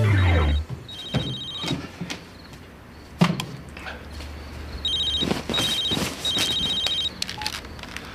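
A telephone rings in a quiet room at night, several electronic trilling bursts repeated in a steady pattern with pauses, with a faint knock and rustle between rings and no talk.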